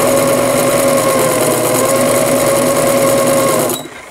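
A sewing machine runs steadily and loudly as it stitches knit dress fabric. The motor drones evenly for several seconds, then stops abruptly near the end.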